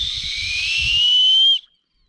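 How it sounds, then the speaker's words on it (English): A whistle noisemaker clamped onto the exhaust pipe of a 460 rwhp Chevrolet Caprice gives a steady, shrill, rising whistle for about a second and a half before cutting off sharply, with low engine rumble underneath at the start. "Clamp this part on your exhaust pipe, and it's supposed to make like some sort of whistly noise."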